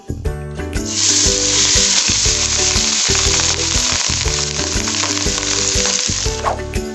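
Rice fries with cardamom in a pot for sweet zarda, making a loud, dense, continuous sizzle. Rhythmic clanking stirs run beneath it the whole time, close and without a break.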